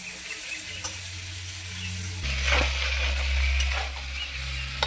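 Mixed vegetable chorchori fries in a pan as it is stirred, a continuous sizzle with scraping spatula strokes and a low hum beneath, growing fuller partway through; no talking.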